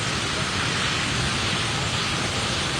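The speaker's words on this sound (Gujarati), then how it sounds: "બે હેલિકોપ્ટર આવી પહોંચ્યા છે" Two helicopters arrive at a dairy yard in Rajkot and pass overhead, giving a steady, loud, broadband rotor and engine roar that holds level for the whole stretch, with no voices.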